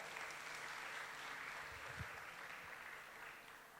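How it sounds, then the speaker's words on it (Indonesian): Congregation applause at a Christmas church service in Yogyakarta, a faint, steady crowd of clapping that tapers slightly toward the end, with a brief low thump midway. "beri tepuk tangan Tuhan dong"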